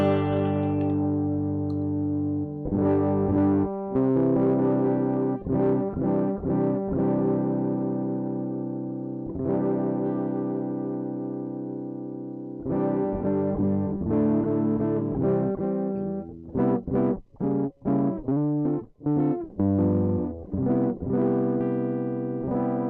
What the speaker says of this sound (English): this is how this sound without any amp, just a signal and a little boost there. I'm crazy to hear the guitar crackle with a little distortion